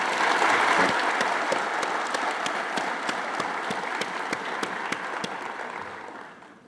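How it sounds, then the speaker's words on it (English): Audience applause for degree and certificate recipients at an institute ceremony in Bangladesh, a dense, steady wash of many hands clapping that holds for several seconds before fading toward the end. "I propose a big applause for all of you who have received this certificate"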